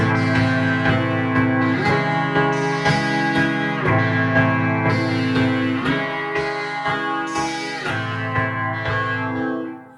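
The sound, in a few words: Moog synthesizer played in poly mode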